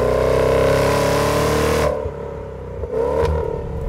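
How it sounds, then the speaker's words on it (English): A 2022 Jaguar F-Pace SVR with its supercharged V8 and open exhaust revs hard, a loud harmonic roar with whine that drops off sharply, then surges again close by. "You get plenty of supercharger whine as well, so you can hear everything that's going on."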